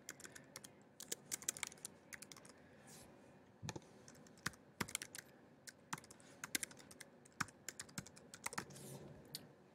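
Quiet typing on a computer keyboard while entering account details, irregular bursts of light key clicks and a few sharper taps, close and soft with no talking.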